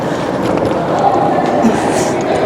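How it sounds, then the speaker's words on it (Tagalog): Steady rumble and rush of a high-speed train running at around 150 km/h on the Yining to Urumqi line in Xinjiang, a continuous broadband roar heard from inside the carriage with no pauses. "Yung takbo ng tren."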